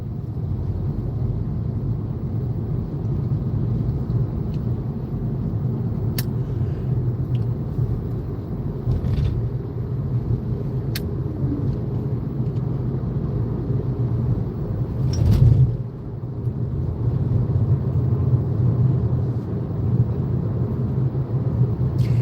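A car driving around The Villages, a continuous low engine and road rumble heard from inside the cabin, steady and fairly loud with a brief swell in the middle and a few faint clicks.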